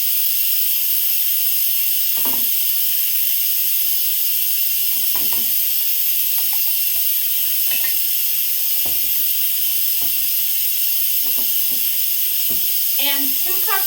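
A loud, steady hiss of steam vents without letup from an Instant Pot during pressure release while loaded potato soup cooks, and a voice talks faintly beneath it.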